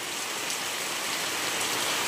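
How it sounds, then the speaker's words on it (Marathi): Heavy rain pours steadily outside a home during a two-day downpour, a dense, continuous hiss of drops drumming on surfaces, close and even throughout with no voices. "हे बघा पावसाचा नुसता कहर चालू आहे 2 दिवस झाले."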